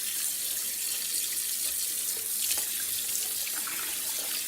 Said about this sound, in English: I'm just gonna keep adding water till it's covered